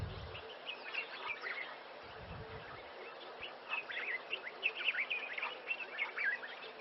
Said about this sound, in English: a particular bird species that we don't see too often